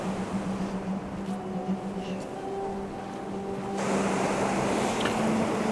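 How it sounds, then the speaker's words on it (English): Ocean waves break on a beach at sunset in a continuous, loud, rushing roar, with gusts of wind buffeting the microphone and the surf swelling slightly louder near the end. "we do have some pretty impressive waves coming in"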